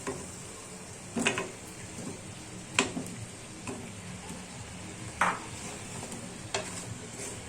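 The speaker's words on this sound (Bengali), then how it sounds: "এবার এটাকে কষাতে হবে।" Potatoes and cauliflower being stir-fried in a pan for a Bengali curry: a soft background sizzle with several distinct scraping stirs of a spoon against the pan at irregular intervals, quiet and close.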